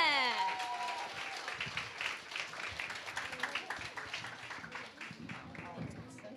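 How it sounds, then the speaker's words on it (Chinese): A church congregation applauding during a joint Christmas Sunday service, a spread of many hands clapping at moderate distance for several seconds, with voices talking over it. "掌声欢迎"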